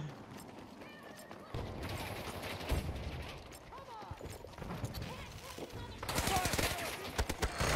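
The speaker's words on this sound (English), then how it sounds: "This portable Vulcan minigun thing is awesome." A portable Vulcan minigun fires in the Battlefield 2042 video game, rapid sustained bursts amid other distant shots and explosions, with players talking over the fire.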